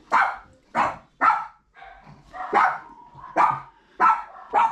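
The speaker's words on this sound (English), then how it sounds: "My dog's going crazy, so I have to let her out." A pet dog barks repeatedly indoors, about seven sharp, loud barks in an uneven rhythm with brief whiny sounds between them, close by and without talk.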